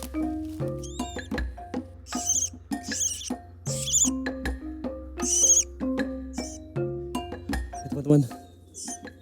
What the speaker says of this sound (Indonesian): di sini kita menemukan anakan burung kuniran